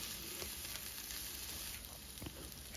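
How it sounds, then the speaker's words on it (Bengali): Radish and other vegetables frying in a pan, giving a steady, faint sizzle with a few soft stirring clicks, close and without talk. "এখন এর মধ্যে আমি একে একে কিন্তু সবজিগুলো অ্যাড করতে থাকবো আর 1 মিনিট করে সমস্ত সবজিগুলো ভেজে নেব"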